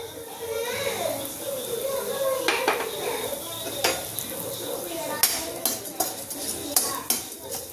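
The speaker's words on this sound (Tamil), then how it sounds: "அதே நெய்யில் நம்ம எடுத்து வச்சோம் இல்லையா சேமியா, அந்த சேமியாவே எடுத்து வறுத்து எடுத்துக்கலாம்." Vermicelli roasting in ghee in a pan, with metal spoon clinks and scrapes against the pan over a light sizzle, and voices talking nearby in the background.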